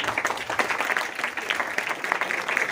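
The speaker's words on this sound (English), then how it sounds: "Give the claps to them." A crowd claps for first-year students welcoming them at a freshers' party and closing ceremony, a steady, dense patter of many hands held at an even level throughout.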